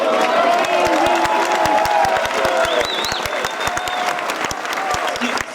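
Loud close applause from a French audience, with cheers and whoops rising over the clapping and a few distinct hand claps standing out, fading slightly toward the end.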